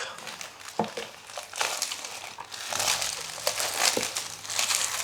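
Plastic wrap being peeled off a OnePlus Watch box gives close, loud crinkling and crumpling with sharp rustles and tearing bursts throughout, a faint voice underneath.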